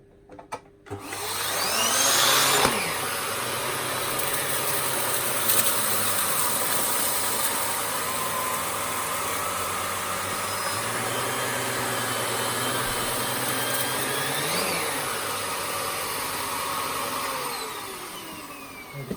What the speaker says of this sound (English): So let's vacuum it up.